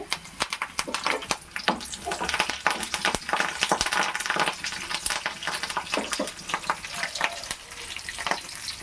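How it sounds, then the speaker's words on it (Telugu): Curry leaves crackle and sizzle in a hot pan of oil for a tamarind-leaf dried-fish curry, with dense sharp pops and spatters over a constant hiss, close but moderately quiet. "ఇప్పుడు కొంచెం కరివేపాకు వేసుకోవాలి."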